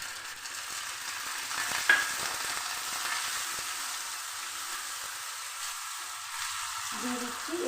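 Poppy seed paste frying in a pan with garlic already browned, a steady close sizzle with a few scraping stirs running throughout, no talking.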